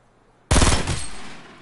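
In a PS4 shooter game, automatic gunfire lands headshots: a loud, abrupt burst of rapid shots that starts sharply and then trails into a decaying rattle, with no voices.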